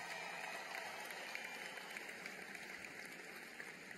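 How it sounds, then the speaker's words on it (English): Crowd applause at a school district convocation, a faint, distant, continuous hiss of many hands clapping, steady throughout with no distinct individual claps. "give a round of applause to the young brothers who sang for us just a moment ago"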